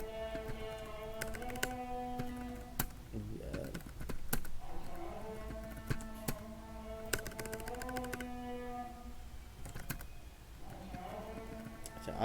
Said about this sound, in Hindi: मैं बोल नहीं रहा तो आप देख लीजिएगा, मैं टाइप कर रहा हूँ।